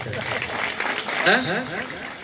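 Audience at a hypnotism show in Borgaon, Karnataka clapping in a short burst, mixed with voices calling out over the applause.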